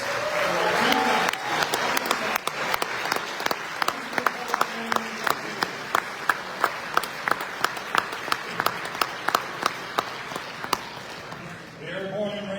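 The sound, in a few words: audience applause at ceremony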